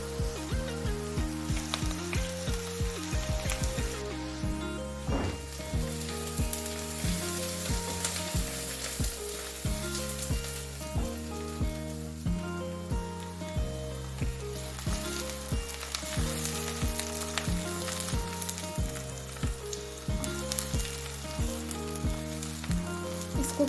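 Spices and beef frying in a pot for beef paya, a steady, dense sizzle that holds evenly throughout, with occasional stirring and no voices.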